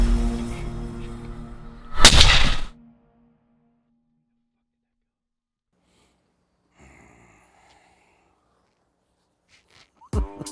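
A hunting rifle fires at a buck from a blind, a single loud, sharp blast followed by a brief decay, then near-silence with faint rustling and a short sharp noise at the end.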